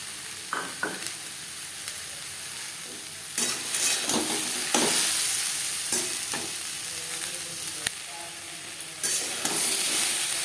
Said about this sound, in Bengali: লো টু মিডিয়াম ফ্লেমে মশলা বেশ ভালো করে ভেজে নেব।